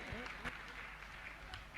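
Applause from an audience at a Jain religious question-and-answer gathering: a broad, continuous wash of clapping, moderately loud, with a voice speaking over it at the start.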